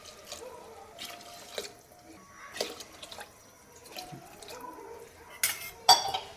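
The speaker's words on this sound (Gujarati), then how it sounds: "હવે આપણે એમાં 4 ગ્લાસ જેવું પાણી એડ કરીશું." Water is poured into a pot of basmati rice for pulao, heard as intermittent splashes and trickles with some clinks of the pot, fairly quiet and close.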